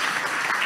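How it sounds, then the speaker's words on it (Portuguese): A church congregation applauding during a service, a brief dense burst of many hands clapping together at a steady, fairly loud level. "Dê um aplauso ao Senhor, aplaudindo a Jesus."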